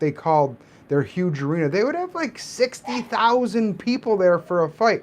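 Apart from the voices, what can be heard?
None of the usual background noises is heard.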